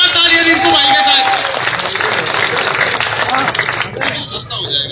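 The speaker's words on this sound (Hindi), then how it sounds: "जोरदार तालियां रिंकू भाई के साथ" A crowd at a village rally claps loudly and continuously, a dense roar of hands close by, with a voice talking over it and cheers near the end.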